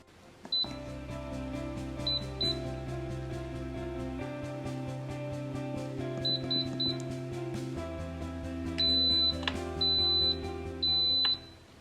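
An electric pressure cooker is locked shut and set for 25 minutes at high pressure, giving a series of short electronic beeps and chirps over a steady hum, ending in longer tones, with no talking.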